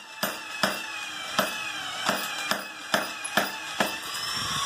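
An 8-pound power hammer runs at low speed, striking in a steady rhythm of about nine sharp metallic blows over the machine's continuous mechanical hum, close and clear with no talk.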